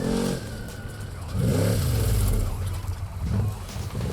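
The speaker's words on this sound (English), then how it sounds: "the 413 trophy truck of Robinson and Hutt started out of a lowly 9th place after being seeded" The 413 trophy truck of Robinson and Hutt accelerates through dusty desert terrain at the Kalgoorlie Desert Race, its engine roaring in loud surges, fading between bursts of throttle.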